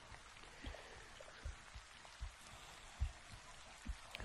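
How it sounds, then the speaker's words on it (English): Steady rain patters down with scattered heavier drops striking a surface, a soft continuous hiss underneath, no voices. "it's a harmony to just hear the rain falling"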